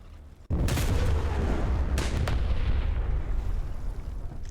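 A Sturmtiger assault mortar fires in a video game, a single loud, close boom that cuts in abruptly and rolls into a long, dense rumbling tail with a couple of sharp cracks.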